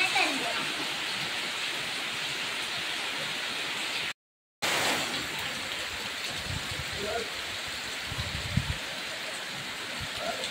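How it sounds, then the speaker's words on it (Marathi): Steady rain falls over a village yard, a dense even hiss of drops that runs through the whole stretch apart from one brief break, with faint voices now and then underneath. "गावचा पाऊस"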